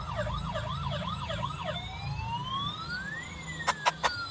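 A toy ambulance plays a wailing, warbling siren over music, fairly faint and steady, followed by three short sharp bursts near the end, with no talk.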